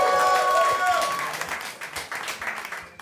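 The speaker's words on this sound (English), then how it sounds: "Y'all give him a round of applause." A crowd applauds and cheers loudly, dense clapping that swells early then thins slightly, with voices mixed into the noise.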